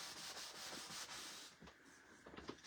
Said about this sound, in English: after the surface wax is on here, we're going to buff that back off.